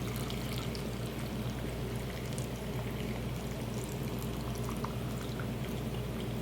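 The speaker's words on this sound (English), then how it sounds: "So you want to add hot water to each jar." Hot water pours steadily into canning jars packed with green beans for pressure canning, a continuous close-up rushing splash with no break.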